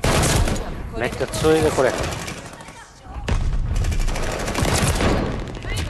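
The Whitley light machine gun in Call of Duty: Vanguard fires in long sustained bursts of rapid loud shots, with a brief lull midway, while someone comments over the gunfire.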